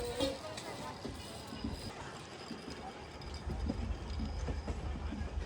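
A passenger train runs on the Pune to Hubli route, its steady rumble and rhythmic wheel clatter heard from inside the carriage, with low background voices.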